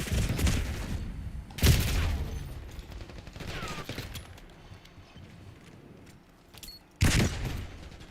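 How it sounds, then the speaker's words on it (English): Assault rifle gunfire in Call of Duty Black Ops 6, with several loud bursts of rapid shots spread across the clip and quieter rattling and clanking between them. "Hostile using assault rifle."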